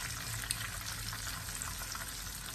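Continuous crackling sizzle of cod fillets frying in hot oil, fairly quiet and even throughout, with a faint low hum underneath.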